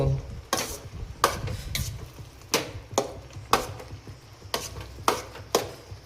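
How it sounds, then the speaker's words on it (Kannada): A spoon scrapes through thick beetroot halwa in a pan, steady rhythmic stirring strokes about twice a second, heard close up. "ನೀಟಾಗಿ ಮಿಕ್ಸ್ ಮಾಡೋಣ"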